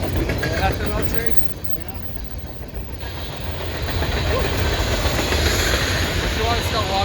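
A CSX manifest freight train hauling ethanol rolls past close by, making a continuous heavy rumble with rhythmic wheel clatter that swells and stays loud throughout.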